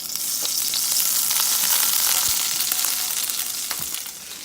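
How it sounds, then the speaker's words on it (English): Oil with a little leftover vinegar sizzling and crackling steadily in a hot pan with onion, mushroom, garlic and green peppers, with sharp pops scattered throughout; no one speaks. "So every time I use it, it pops a little bit because it's still got a little bit of vinegar left in there."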